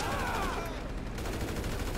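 Gunfire in GTA 5, a dense crackling burst of shots that fills the short moment loudly and continuously, with no pause between reports.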